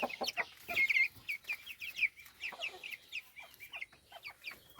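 Young broiler chickens cluck and chirp on a small farm, a busy overlapping stream of short calls, some close and some farther off, with no talk.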